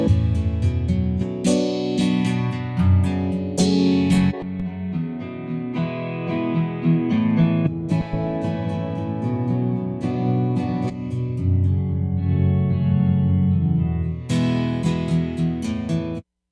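Layered electric guitar tones through Ujam VG Amber 2 presets shift abruptly every second or two, jumping between distinct effect textures, some spacious and reverb-washed, others filtered, played continuously and fairly loud.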